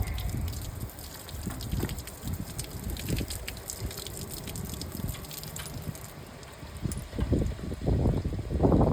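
Water gushes hard through a valve opened wide on a brewing system's recirculation arm during cleaning, a steady rushing, splashing flow up close that swells louder toward the end.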